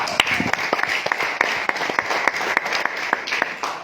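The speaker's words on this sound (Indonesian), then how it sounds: "Tepuk tangan buat tadi" Audience applause at a family gathering seminar in Tawangmangu, a thinner run of distinct claps ringing out at a steady pace over a soft crowd wash.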